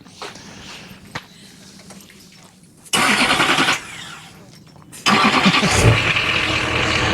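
A 2004 GMC 3500 Duramax diesel pickup cranks and fires up, starting after a quiet stretch of faint background noise with loud bursts of engine sound, then settling into a steady running rumble up close.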